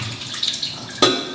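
Water from cooked tater tots rushes steadily through a colander, a close, continuous splashing hiss that swells into a sharper gush near the end.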